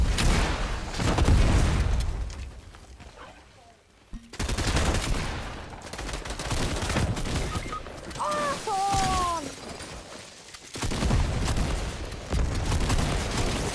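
A turret firing in Fortnite, loud sustained rattling bursts in several long stretches with a brief lull between them, close and dense, with a few voices mixed in.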